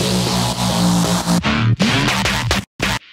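A drum and bass track in Ableton with the bass ducked by sidechain-style volume automation, giving dense full-band music whose low end dips under each kick and snare. Loud and with no talk, it breaks off briefly near the end.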